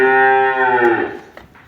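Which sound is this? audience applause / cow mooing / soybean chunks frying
cow mooing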